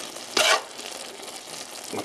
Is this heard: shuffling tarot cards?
no